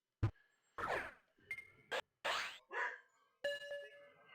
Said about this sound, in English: That dog's barking because neighbor's dog is barking